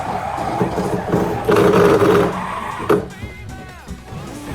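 A Fujita Engineering RX-7 roars loudly in a touge racing video game, with a surging burst of revs midway and then rising and falling whines as the car speeds along.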